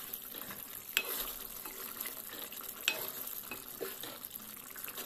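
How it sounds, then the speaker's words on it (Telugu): Fish curry being stirred in a pan after coriander powder and fresh coriander leaves go in, a soft steady scraping and faint simmering sizzle with a couple of sharper clinks of the spoon, close and moderately quiet. "ధనియాల పౌడర్, కొత్తిమీర వేసి కలుపుకోవాలి."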